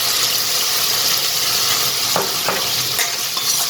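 Potatoes and onions frying in a pan, a loud continuous sizzle with several scraping strokes of a spoon stirring them near the end.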